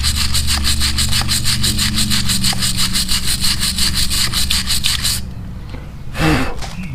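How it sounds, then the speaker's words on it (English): Rapid back-and-forth scrubbing of a wire brush on the brake hub of a 2001 Ford F150 during front rotor replacement, loud and rhythmic, then stopping and followed by a brief clunk. "Maybe use a wire brush in there."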